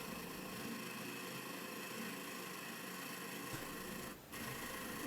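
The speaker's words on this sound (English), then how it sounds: "Drilling holes again." A drill boring holes into a hand-held wood-turned piece, a steady high-pitched motor whine that runs continuously, near and moderate, with a brief dip near the end.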